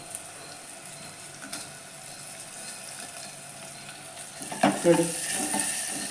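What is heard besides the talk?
garlic and dried red chillies frying in a pan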